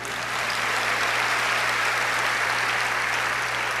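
A church congregation applauds steadily, a dense, even wash of many hands clapping at moderate distance, sustained without pause over a low hum.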